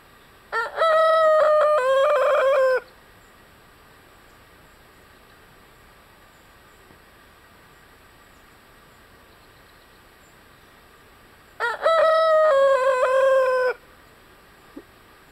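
A giant Dark Brahma rooster crows twice, loud and close, each call a long harmonic cock-a-doodle-doo lasting about two seconds, separated by a long quiet stretch.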